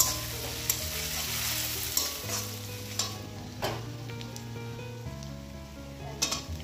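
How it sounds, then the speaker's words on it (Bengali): Dried fish frying with onion and garlic in a pan, giving a dense, close sizzle with a low steady hum beneath and a few sharp crackles or utensil knocks scattered through it. "এখন এই শুকনো মাছগুলো দিয়ে দিলাম। এগুলো বেশি ভাজবো না, বেশি ভাজলে না শক্ত শক্ত হয়ে যায়।"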